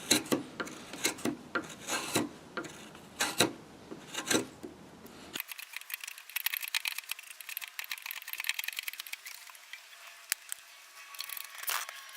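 A hand tool scrapes and rasps a carved wooden spoon, first in distinct, rhythmic strokes up close, then in lighter, quicker, thinner scratching. No one speaks.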